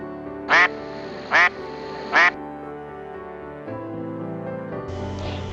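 Three loud, evenly spaced duck quacks from water birds at a lakeside resort near Pemberton, close by, followed by a low steady hum of background noise.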